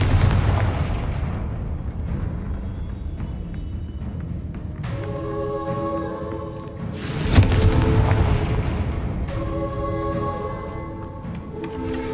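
A Confringo fire spell from Hogwarts Legacy detonates with a loud booming blast near the middle, surrounded by rumbling game ambience and sustained tonal musical layers; no speech is heard.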